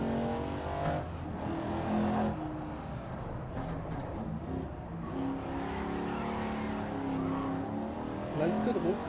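Race car engines from the racing video game GRID Legends drone and rev beneath steady commentary from a talking player, with brief tire squeals near the end.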